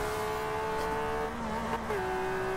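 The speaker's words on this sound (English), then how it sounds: "You can hear the gears in this thing are already screwed up" Racing car engine in the video game Forza Horizon 2, a barn-find car with a damaged gearbox, holding a steady high droning whine with a brief dip and shift near the end, constant and close with no talk.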